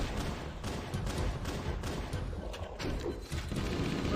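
Dense, continuous gunfire from a shotgun amid a Halo firefight against the Flood, with rapid overlapping shots and blasts filling the whole stretch at steady high loudness.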